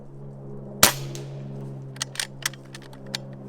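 A single sharp shot from an Umarex Gauntlet .25 caliber PCP air rifle cracks out once near the start, followed by a low steady hum and a few faint clicks.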